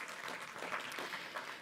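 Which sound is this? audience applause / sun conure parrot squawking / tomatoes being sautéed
audience applause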